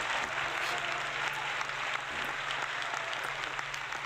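Applause sound effect played for a virtual audience on a solo retro gaming live stream, a steady wash of clapping and light crowd noise running continuously at even loudness without a break.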